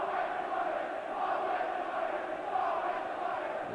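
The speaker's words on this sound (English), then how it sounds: "the fans who used to cheer him, jeering there" Dundee United football fans in a stadium jeer as one crowd, a distant, swelling wash of voices rising and falling steadily throughout, with no single voice standing out.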